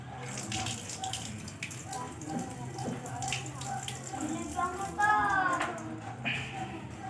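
Water runs from a freshly joined pipe at a repaired leak, a steady trickling flow with splashes and brief gurgles, close by and moderately loud, with faint voices in the background.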